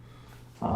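A dog growling indoors, a short low rumbling snarl that starts abruptly near the end after a stretch of quiet room hum.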